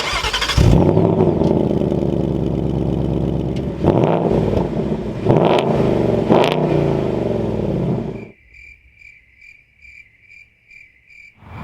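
A Ford Mustang GT with a dual quad-tipped exhaust rumbles loudly and steadily up close for about eight seconds, swelling in a few revs before cutting off, leaving faint electronic pulsing beeps behind.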